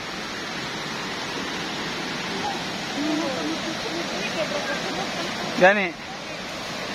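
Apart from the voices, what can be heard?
waterfall in Davao City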